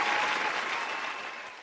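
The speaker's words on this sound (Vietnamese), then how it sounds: "Một tràng vỗ tay nữa dành cho bé Quang Hiểu." A TV studio audience claps in a dense burst of applause that fades gradually over a couple of seconds, with no talking over it.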